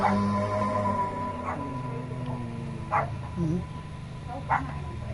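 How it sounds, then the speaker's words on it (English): Indoor dog giving short barks and whimpering yips, a few scattered bursts over a background hum while a person talks through it. "He probably hears the other dogs outside."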